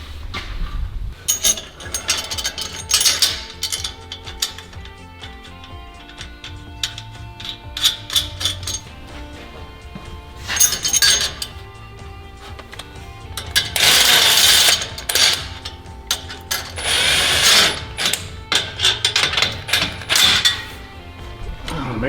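Ratchet tightening an exhaust hanger clamp during a clamp-on exhaust install on a 2019-2024 GM 6.6L truck, heard as close, repeated bursts of rapid clicking and mechanical rattling with brief pauses between strokes.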